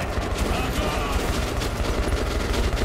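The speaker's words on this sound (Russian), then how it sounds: "Я вижу, что мы под обстрелом." Rapid gunfire in the video game Metro: Last Light rattles continuously in a dense, close barrage.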